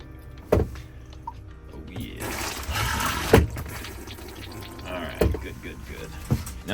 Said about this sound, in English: Now we're gonna see if we got some fluid running through the toilet